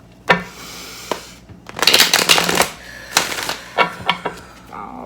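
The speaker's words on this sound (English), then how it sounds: "One more shuffle." Tarot cards being shuffled by hand, with a few crisp riffling bursts and short snaps close to the microphone, the longest flurry in the middle, and no talking over it.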